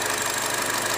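A 2015 Chevy Cruze with a 1.4-liter turbocharged four-cylinder idles in a steady, even hum with a fine rapid pulse, heard close and alone for a brief moment.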